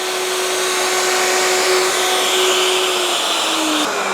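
Router making a second pass on melamine, a loud, steady motor whine with a sustained tone that holds throughout and shifts slightly in pitch near the end.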